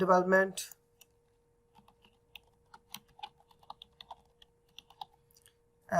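Someone types on a computer keyboard in irregular bursts of light, close clicks in a quiet room, with a voice speaking briefly at the start and end.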